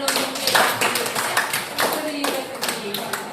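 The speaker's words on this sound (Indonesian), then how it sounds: "Oke, tepuk tangan dulu." A class of grade eleven students claps together in a classroom, a dense patter of hand claps that keeps going throughout, with some voices mixed in.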